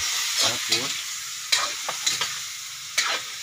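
Ginger and chili sautéing in a hot pan with soft crackling sizzle and several sharp stirring scrapes of the spatula, close and clear with no talking.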